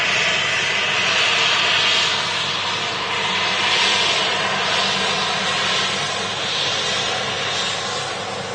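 A propeller aircraft departing, its engine drone loud and steady throughout with broad rumble and gentle swells, no talking over it.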